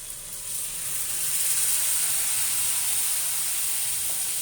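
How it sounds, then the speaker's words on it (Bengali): Hot water is poured into a pan of spiced prawn and bottle gourd curry, setting off a loud, steady hiss of sizzling steam that swells and holds, with no talk. "এবার দেব গরম জল,"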